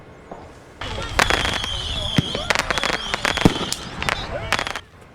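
Illegal fireworks crackle and bang in rapid, irregular bursts during a Fourth of July period in Clark County, sharp pops layered over a continuous fizzing crackle at moderate distance.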